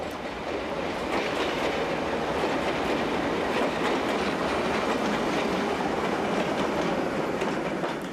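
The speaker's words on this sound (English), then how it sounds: "Here another Alco brings in a local from Setúbal." An Alco diesel locomotive brings a local train from Setúbal into a Portuguese station, a loud, continuous rumble of engine and rolling wheels with steady rail clatter throughout.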